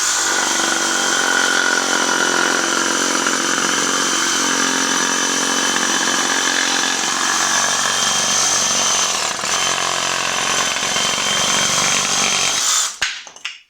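A Ryobi 18-volt cordless power saw runs and cuts continuously with a used blade, a loud, steady high-pitched whine and buzz lasting several seconds before cutting off abruptly at the end.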